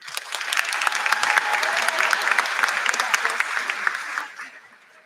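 A crowd at a high school graduation ceremony claps loudly and steadily for the graduates, a dense wash of applause that fades out quickly near the end.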